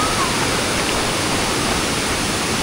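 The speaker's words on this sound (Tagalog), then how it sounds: "Lakas ng tubig dito, tsaka malinaw yung tubig." Strong water at Siquijor rushes in a loud, continuous, close roar like a waterfall or fast stream, with no break or variation.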